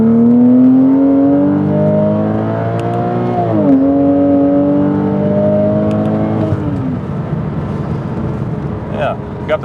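A Porsche 987 Cayman engine revs up hard, its tone climbing steadily, dropping briefly at a gear change, then climbing again before easing off amid road noise.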